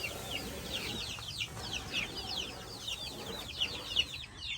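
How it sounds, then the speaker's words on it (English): Newly hatched chicks, two or three days old, cheep and peep in a small farm pen. Their high chirps come thick and continuous and fairly close, over a soft outdoor background. "Mấy gà mới sanh á, cái này khoảng chừng được 2-3 ngày à."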